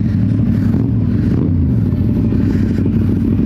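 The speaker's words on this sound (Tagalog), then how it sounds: "Nagpapainit lang kami ng motor tapos lalarga na rin kami." A CFMOTO 450SR motorcycle engine idles loudly and steadily up close while warming up, a continuous chugging rumble with slight rattling, no voices.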